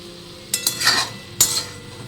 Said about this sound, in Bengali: আমার সবজিগুলো ভাজা গেছে, আমি মশলা দিয়ে কষে নেব।